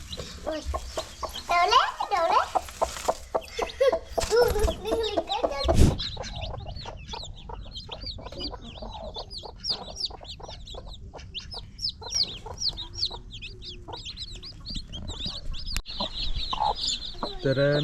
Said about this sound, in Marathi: अशा प्रकारे आपण ही कोंबडी आहे ना अंड्यावर बसवलेली आहे.